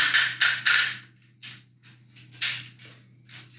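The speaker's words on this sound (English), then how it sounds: "super loud ratcheted knees" Several sharp, loud clicks and snaps in quick succession, then softer scattered clicks, from a Transformers Cybertron Metroplex toy's stiff ratcheted plastic knee joints, up close.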